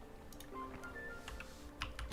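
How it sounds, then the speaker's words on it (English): A computer keyboard is typed on in quick bursts of light, crisp key clicks, fairly quiet and close, with faint game sounds in the background and no talking. "can you only hear my keyboard clicking?"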